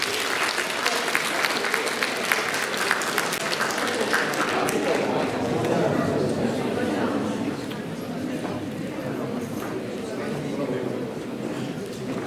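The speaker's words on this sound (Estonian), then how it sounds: "Aplaus 11. klassile." A school Christmas party audience for grades 6 to 12 applauds the 11th grade with sustained, dense clapping that fills the hall for several seconds, thinning slightly later as crowd murmur and voices mix in underneath.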